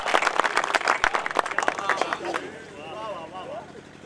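Brief, lively clapping rises from the crowd at a Hindi kavi sammelan in Etah, then fades as people murmur and chatter in the background.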